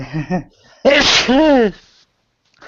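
A single loud, close sneeze bursts out after a brief vocal sound, followed by quiet.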